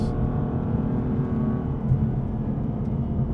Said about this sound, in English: down a gear, squeeze the gas